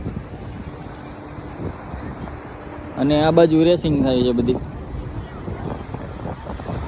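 Strong wind blows at Nagoa beach in Diu, a steady rushing buffet against the microphone throughout, with someone speaking over it midway.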